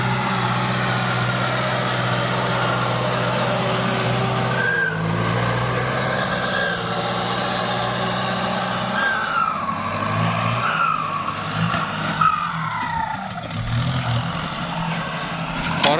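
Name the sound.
used Kubota L5018 tractor engine running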